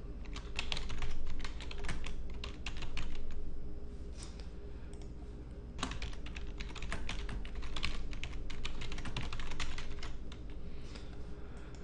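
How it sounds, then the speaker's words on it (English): Steady typing on a computer keyboard while entering documentation text, with quick irregular key clicks in bursts and brief pauses, close and fairly quiet, with no speech. "we're going to do is go over here and type in some initial documentation"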